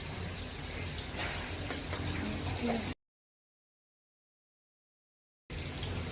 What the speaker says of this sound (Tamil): இப்போ இந்த வெங்காயம் தக்காளி வதங்குது இல்லைங்களா